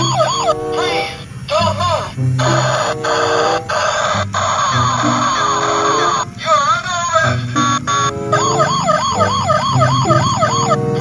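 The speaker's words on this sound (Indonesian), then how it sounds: "Ini ada mobil polisi patrol." A toy police patrol car blares a looping electronic wailing siren, loud and close, cycling repeatedly with children's-toy tone and some voices underneath.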